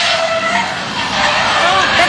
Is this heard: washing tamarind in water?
no